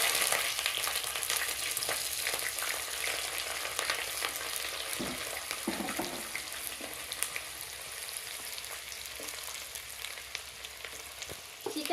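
Onion frying in a pan with dried red chilies as the base for gongura chicken, making a continuous close sizzle with occasional stirring scrapes and no talk.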